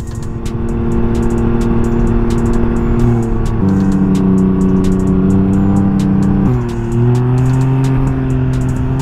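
A 2016 Can-Am Spyder RSS engine drones loudly at highway speed on a straight road, holding a steady tone with a couple of gear shifts that step its pitch up and down.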